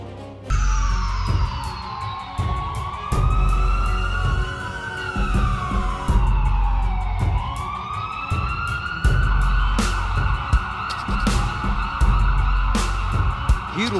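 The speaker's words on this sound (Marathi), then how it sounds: "ही रुग्णवाहिका बघा, तिच्या चालकानं शक्य तितक्या मोठ्यानं सायरन लावलाय" Ambulance siren blaring loud and close in highway traffic, long sweeping wails that rise and fall continuously over engine rumble and scattered horn blasts.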